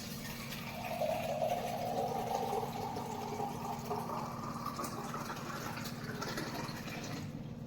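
Water runs into a vessel, making a steady gushing flow. Its pitch rises as the vessel fills, over a low continuous hum, close by and with no talking.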